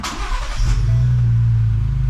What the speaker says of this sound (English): I'm gonna actually turn the car on for a second so I can put this into neutral